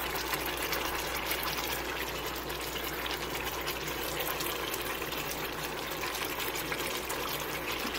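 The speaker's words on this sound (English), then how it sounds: "now you can add water." Water is poured steadily into a cooking pot over meat and vegetables while a Senegalese stew is being made, a continuous splashing gush that runs unbroken and close.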